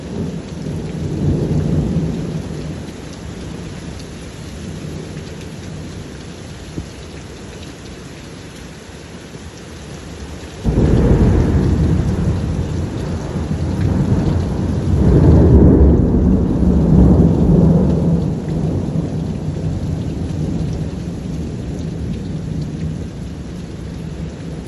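A heavy thunderstorm with steady rain pouring onto surfaces and deep thunder rolling loud and close, swelling sharply about halfway through and rumbling on under the constant downpour.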